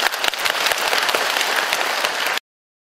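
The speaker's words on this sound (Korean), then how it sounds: "그분들 위해서 박수 한번 보내주세요" Crowd applause at a county elders' celebration honouring devoted sons and daughters, a dense burst of many hands clapping loudly and close, ending abruptly.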